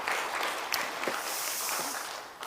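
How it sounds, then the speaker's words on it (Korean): A church congregation at an ordination thanksgiving service for its 25th anniversary claps together, a brief, close burst of dense clapping with a few sharper individual claps standing out. "박수로"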